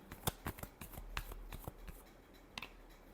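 Tarot cards are shuffled in a quick run of crisp riffling snaps and slaps, close and alone, ending in a final pair of flicks.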